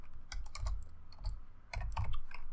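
Fingers typing on a computer keyboard, a quick irregular run of close clicky keystrokes in short bursts with brief pauses.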